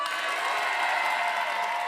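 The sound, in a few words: studio audience applauding finalists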